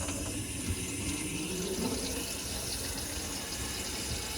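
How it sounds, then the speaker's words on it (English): A kitchen sink tap runs water steadily into a drain that has just been hydro jetted, a dense, even rush and splash that holds without pause from start to end, close by and fairly loud. "So I'm running the sink right now"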